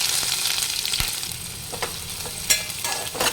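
Cut onion pieces frying in oil with cumin in a kadai for a spiny gourd curry, a close continuous sizzle punctuated by a few sharp stirring knocks and crackles.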